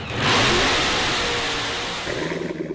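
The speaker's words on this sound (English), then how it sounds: "You hear that? That's the sound of America's only sports car." A Chevrolet Corvette sports car engine revs hard, swelling quickly to a loud sustained roar that eases off, then settles into a rough, pulsing burble, close and alone.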